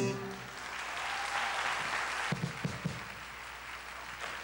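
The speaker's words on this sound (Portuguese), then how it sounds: "Palmas." A studio audience on a Brazilian television program claps together in a steady, dense wash of applause, with a few sharper, louder claps standing out near the end.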